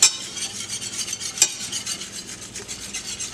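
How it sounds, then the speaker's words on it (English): Whisk stirring flour in hot fat for country gravy in a pan, a steady rhythmic scraping and swishing with light sizzle underneath and one sharp metallic clink partway through, close and alone without voices. "So don't stop whisking it."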